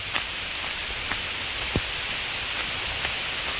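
Steady hiss of rain falling, a constant broadband wash with a few faint drip-like ticks scattered through it.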